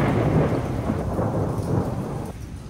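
A thunderstorm with hail in Vrindavan: a continuous heavy wash of rain and rumbling thunder fills the whole stretch, loud and close, with no talking.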